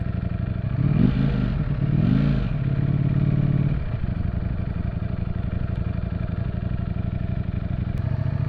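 A wrecked Ducati Streetfighter V4S motorcycle with a quick shifter is ridden hard, its engine rising through two loud revving pulls before settling into a steady rumbling drone, with wind buffeting throughout.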